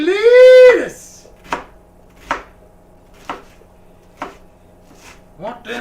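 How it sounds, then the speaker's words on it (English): Onions are chopped with a knife on a cutting board, five or six distinct close knocks spaced about a second apart, after someone briefly speaks with a drawn-out voice at the start. "I'm going to cut up some of these here onions"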